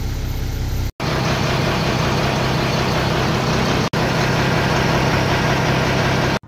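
A van's engine runs at low RPM, a steady close drone heard alone, broken by two brief dropouts.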